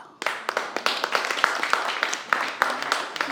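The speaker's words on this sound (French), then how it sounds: "les applaudissements sont timides là" Sparse, timid applause from a literary event audience: a thin scatter of individual hand claps that starts abruptly and stays light and uneven, with no voices over it.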